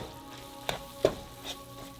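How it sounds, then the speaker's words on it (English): Taco meat with seasoning in a frying pan gets a few stirs, with two or three soft scraping strokes over a quiet, faint sizzle, close and without talk. "We're gonna go ahead and stir this all in."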